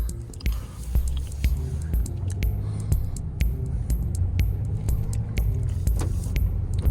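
Steady low V6 engine hum inside a moving 2020 Nissan Frontier SV 4x4 Crew Cab pickup truck, with light rattles and clicks from the cabin over the continuous drone.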